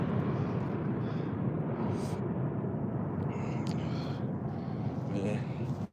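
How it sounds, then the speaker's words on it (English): A low-flying airplane passes close overhead above a New York City park during a winter dog walk, its loud, steady roar filling the scene while faint higher sounds drift in and out. "Oh, the plane is real close."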